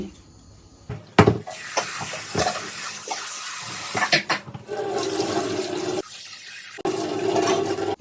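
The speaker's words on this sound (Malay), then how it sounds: "Lepas tu kita bilas untuk kali yang terakhir. Tak payah sentuh beras." Rice being rinsed for lemang in a basin gives splashing and swishing water bursts, then steady pouring and running water, loud and close, with no talking.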